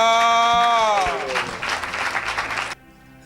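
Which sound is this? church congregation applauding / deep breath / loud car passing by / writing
church congregation applauding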